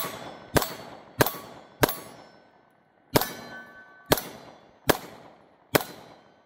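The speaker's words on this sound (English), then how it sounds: "Let's do 5 shots on center" Five sharp, loud shots from a Taurus GX4 Carry pistol fired at a target about 15 yards away during an accuracy test, each crack ringing out then decaying, spaced roughly half a second to a second apart.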